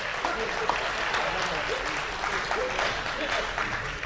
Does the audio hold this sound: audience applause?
yes